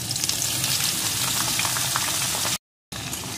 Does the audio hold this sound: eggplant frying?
yes